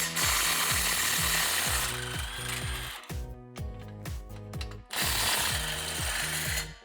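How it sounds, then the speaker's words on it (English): A ratchet and 13mm socket working the bolts on a 2011-2014 Ford F150 3.5L EcoBoost exhaust flange, with quick bursts of close metallic clicking in a steady rhythm and a short gap midway. "We're going to disconnect this flange right here. It's held in place with 2 bolts."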